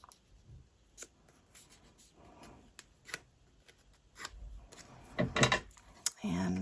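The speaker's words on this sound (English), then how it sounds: "I'm going to take a piece about like that and fold it" A thin sheet of craft paper is handled and folded, making soft crinkles and a few sharp creasing taps that build to brisker rustling near the end, close and quiet with no talking.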